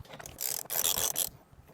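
A torque wrench set to 80 Nm ratchets while tightening a fastener on a Tesla Model S, giving several close, loud bursts of metallic clicking with brief pauses between them.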